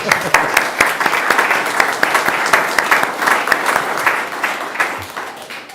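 Applause at a city council meeting honouring a retired fire department arson investigator, a loud, sustained crowd of clapping hands with individual sharp claps standing out, gradually thinning toward the end.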